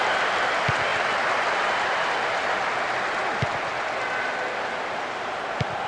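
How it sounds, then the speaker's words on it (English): Crowd noise at a World Cup football match, a dense continuous roar filling the stadium for several seconds, with a few sharp isolated claps or thuds poking through. "I have to say the crowd is adding to this as a spectacle. The noise they're making is terrific."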